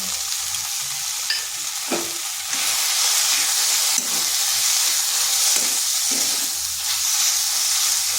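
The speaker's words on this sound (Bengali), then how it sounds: "দিয়ে দিচ্ছি যে মশলাটা পেস্ট করে রেখেছি।" Spice paste hits frying eggplant (begun) in a hot pan, setting off a loud, steady sizzle that swells after a moment, with occasional scraping knocks of stirring and no talking.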